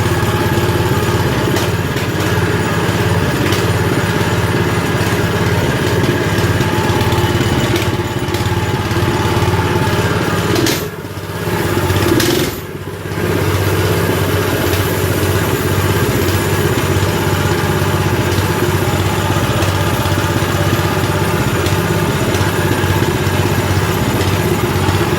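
A small Baja engine on a mini bike runs steadily after starting, a continuous near idle drone that dips briefly twice, with no speech.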